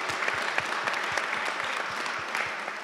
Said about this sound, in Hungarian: Köszönjük a szűnni nem akaró tapsot.